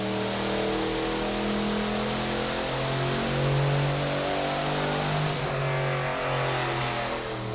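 A turbo Mazdarati engine revs hard through a pull, a loud, steady roar rising in pitch with dense turbo hiss, sustained and close for several seconds with a brief shift-like change near the end.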